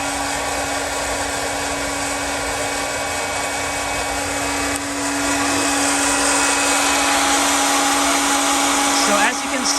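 A popcorn popper converted into a coffee roaster runs with a steady, loud whirring hot-air drone as beans roast inside, the tone brightening slightly midway and continuing unbroken throughout.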